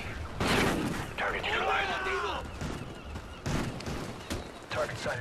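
Gunfire in Call of Duty Ghosts: bursts of shots and impacts crackle through a busy multiplayer battle, with other game sounds layered over the fighting.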